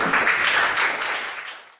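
Audience clapping for Daniel at a school presentation, a short burst of applause that fades out quickly.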